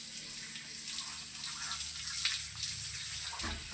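Water splashes and trickles while an animal is being bathed, soft and fairly close, with uneven pours and small bursts rising and falling over a quiet background.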